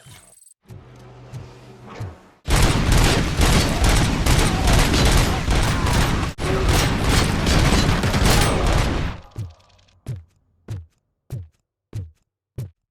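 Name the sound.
Cobra cannon gunfire in video game Robocop: Rogue City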